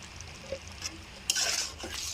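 Vegetarian pointed gourd curry stirred in a pan after a spoonful of ghee and garam masala goes in, soft scrapes and a light clink of the spoon over a faint sizzle, then a brief louder hiss.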